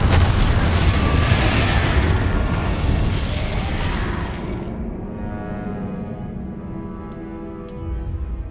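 A Confringo spell blast in the Hogwarts Legacy game booms loudly, a broad roaring burst that rumbles and slowly fades over several seconds, ending with a faint ringing tail.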